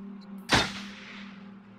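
A single sharp gunshot in the video game Until Dawn cracks loudly out of a quiet background and decays over about a second, with a low steady hum underneath.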